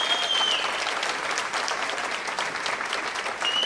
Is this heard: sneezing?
no